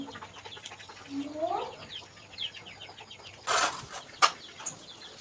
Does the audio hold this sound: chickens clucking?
yes